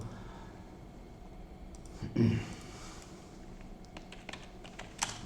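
Rapid clicks from a computer keyboard, fairly faint and close, with one louder thump partway through and a burst of keystrokes near the end while someone speaks quietly.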